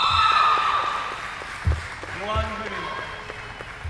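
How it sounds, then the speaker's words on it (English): A crowd at a women's basketball game between Singapore Android and Singapore Hillcrest lets out rising and falling oohs and aahs, mixed with squeaking shoes, a ball bounce and talk over the arena noise. "Got some oohs and ahs from the crowd."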